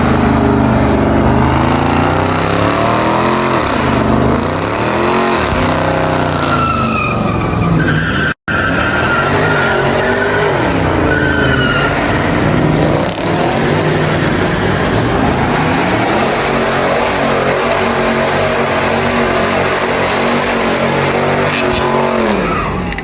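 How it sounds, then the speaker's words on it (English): Cars doing burnouts at an unsanctioned street car show in New Orleans: engines rev and wail while tires squeal and skid continuously, loud and close, with waves of rising and falling revs and no talking. "there was this just insane burnout like car show going on"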